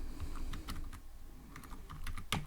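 Python code being typed on a computer keyboard, a close, steady run of light key clicks with a few brief pauses.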